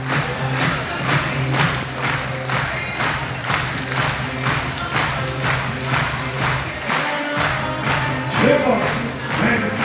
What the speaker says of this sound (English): Okay, let's cheer for them.